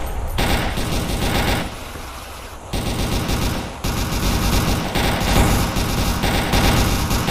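Sustained volleys of cover gunfire in a Soviet-Afghan war video game, dense overlapping rifle and machine-gun bursts rattling continuously with a brief lull midway, loud and close.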